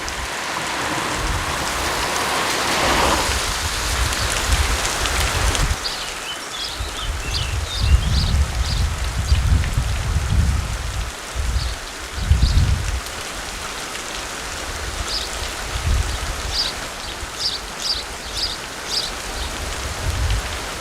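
Steady rain falls through the primeval Białowieża forest in Poland, a dense continuous patter on leaves and ground with faint bird chirps scattered through it, close and enveloping.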